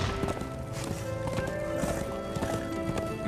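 A horse gallops under its rider in Darksiders 2, hooves drumming in a quick steady clip-clop that stays close and continuous, blended with game ambience and music.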